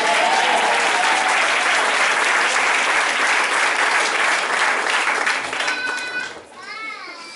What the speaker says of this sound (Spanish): ¿Cuánto le damos palmas al Señor, hermano?